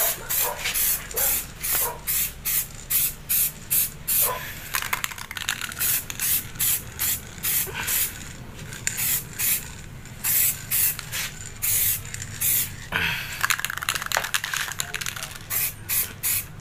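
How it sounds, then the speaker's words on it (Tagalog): Spray gun applying black paint to an AGV K5 motorcycle helmet before carbon hydro dipping, heard as repeated short hissing bursts with brief pauses, close and fairly loud, with quiet room noise underneath. "Hirap mag spray ng hawak yung camera."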